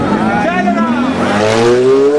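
A car accelerates hard at a Cars & Coffee meet in Brescia, its engine note sweeping upward in rising harmonic bands, loud and close, with a brief gear change midway.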